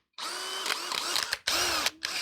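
A cordless Dewalt hammer drill whirs in short bursts, three or four high, buzzing runs separated by brief stops, close and fairly quiet.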